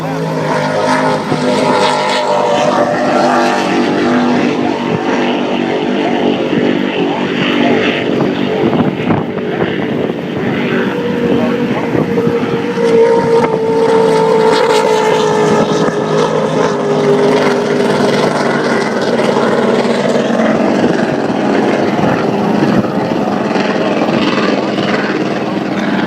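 Racing powerboats roar through the final lap at the Key West powerboat races, a loud, steady engine drone that swells and shifts in pitch, with a commentator talking over it.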